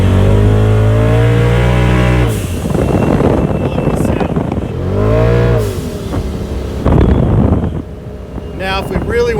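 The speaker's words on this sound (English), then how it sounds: "He's got that nice blow-off valve on here, releasing some pressure, which is very good for the turbocharger." A 2019 Polaris RZR Turbo S with a flashed ECU revs hard in repeated rising and falling sweeps up close, each blip ending in a breathy turbo blow-off release, with wind buffeting the microphone.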